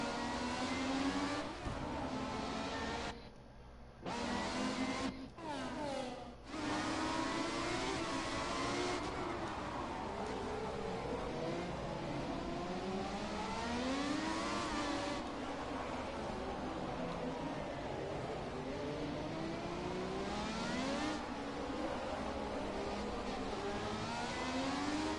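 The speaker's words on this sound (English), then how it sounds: "Just listen to these cars holler." Open-wheel race car engines from the F1 2017 game on PS4, a continuous loud high-pitched whine with rising and falling revs, gear shifts and brief dropouts, several cars sounding together.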